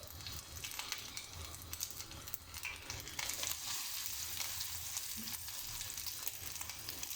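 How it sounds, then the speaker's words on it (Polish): Egg cutlets sizzle and crackle steadily in hot oil, a constant close frying hiss with small pops throughout and no talking. "Gdy ona tak bulgocze, to znaczy, że już możemy wkładać nasze kotlety."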